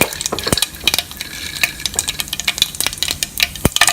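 Peanuts and roasted chana clatter and crackle in a pan of hot oil, with sharp, irregular clinks of stirring over a steady sizzle.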